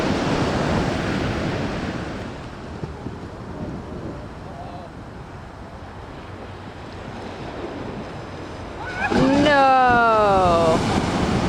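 Clear ocean waves wash and roll near a skimboarder on the shore, a steady loud surf roar with wind buffeting the microphone, rising sharply near the end as a wave rushes in.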